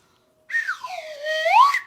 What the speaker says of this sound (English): Do you guys like slide whistles at your wedding?